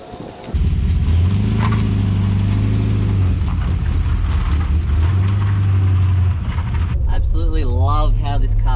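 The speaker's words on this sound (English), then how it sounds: "Love how this car sounds. It sounds perfect." A Holden VN Commodore with an LS1 V8 rumbles loudly while driving, its deep exhaust note steady with rising and falling engine tones, and a person talks over it near the end.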